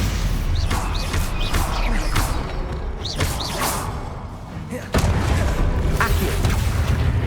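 Stupefy spell cast in Hogwarts Legacy combat: loud booming magical blasts and thuds in quick succession, with a sharp heavy impact near the end amid continuous game noise.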